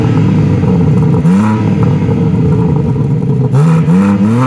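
A yellow 2022 BMW M3 xDrive Competition revs hard through its exhaust nearby, loud and steady, with two quick throttle blips rising and falling in pitch over a continuous idle rumble.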